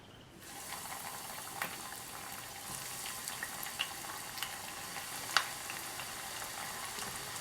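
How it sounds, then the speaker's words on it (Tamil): Onion rings fry in hot oil on a low flame with a steady, gentle, hissing sizzle and scattered small pops and crackles, moderately close and with no voices. "இப்போ ஆயில் நல்லா சூடாயிடுச்சு இப்போ கொஞ்சம் ஸ்டவ்வை ஸ்லோ ஃப்ளேமில் வச்சுட்டு நம்ம அந்த ரிங்ஸை போட போகிறோம்"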